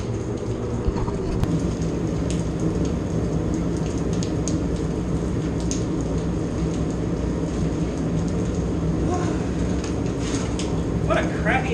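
Steady rain falls outdoors, a dense continuous hiss and patter with a low rumble underneath, unbroken for the whole stretch.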